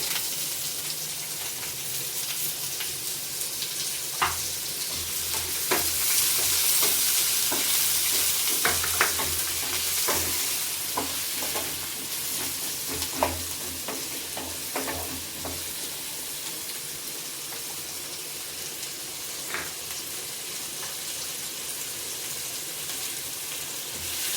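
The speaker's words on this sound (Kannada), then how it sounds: "ಇದು ಎಣ್ಣೆ ಕಾಯ್ಬೇಕ್ರಿ ಎರಡು ಸಣ್ಣಗೆ ನೀರುಳ್ಳಿ ಹೆಚ್ಚಿಟ್ಕೊಂಡಿದ್ದೀನಿ" Finely chopped onions sizzle steadily in hot oil in a pan, a continuous frying hiss broken by sharp clicks of stirring and spatula taps, with no talking.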